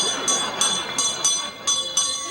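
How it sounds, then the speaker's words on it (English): A small hand bell, as used for holiday charity collecting beside a kettle, shaken in a steady series of bright, jangling rings, about six strokes in two seconds over faint background noise. "when I add this little bell"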